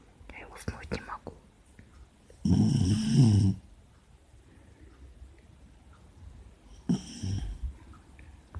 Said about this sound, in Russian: Это нормально такой храп.